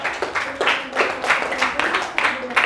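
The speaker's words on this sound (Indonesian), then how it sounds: "beri aplaus dulu untuk kelompok 4" A classroom group claps for a student team in a quick, uneven rhythm of close hand claps, with voices mixed in.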